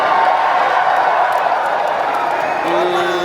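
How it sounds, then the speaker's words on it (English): A rally crowd in Edmonton cheers and murmurs steadily throughout, a broad, continuous wash of many voices, with a sustained tone entering near the end. "What are you guys cheering for over there?"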